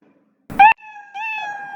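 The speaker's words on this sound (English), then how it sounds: "Play sound meow until done." A cat meow sound effect played back in Scratch: a short sharp mew followed by a longer, drawn-out tonal meow, clear and close with no other sound.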